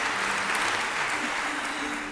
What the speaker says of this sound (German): Und noch ein Applaus.